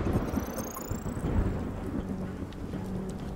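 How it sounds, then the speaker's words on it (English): Thunderstorm on a dock level in the video game UnMetal, by rough sea among shipping containers: a steady wash of rain and low rolling thunder rumble, loud and continuous throughout. "Oh, and there was a storm."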